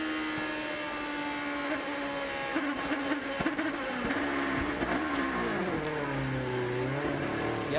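Onboard sound of a 2005 IRL IndyCar race car engine, a steady high-pitched whine that climbs and bends in pitch as the car gets on the power, loud and close throughout with no talk.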